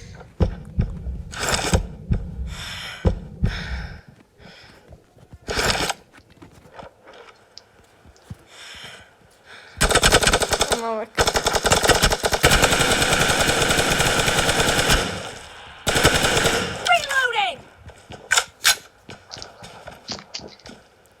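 Machine gun fire rattles in a video game, coming in rapid bursts of varying length, including one long sustained stretch, separated by quieter gaps with scattered clicks and thuds.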